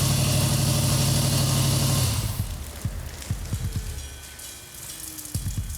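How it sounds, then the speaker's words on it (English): A car engine idling steadily after a repair, with a dense, even running drone that drops away partway through, leaving scattered sharp ticks and clicks against a quieter background. "Engine runs good"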